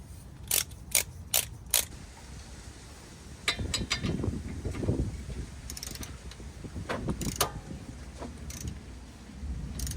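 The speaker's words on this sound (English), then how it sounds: "I'm gonna torque this one to 37." Torque wrench clicking on a steering stabilizer bolt of a Jeep Wrangler, four sharp ratchet clicks early, then busier mechanical rattling and tightening noises at close range.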